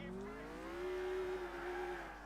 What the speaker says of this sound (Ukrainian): Ух, хороша тачка, будемо на ній зараз двигатися.